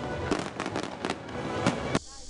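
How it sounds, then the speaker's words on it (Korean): Fireworks burst at a summer fireworks festival where some forty thousand shells are set off over about thirty minutes, giving a quick run of sharp, crackling booms at mid distance before cutting off abruptly. "오늘 밤에는 4만여 발의 폭죽이 30여 분간 터질 것으로 예상돼"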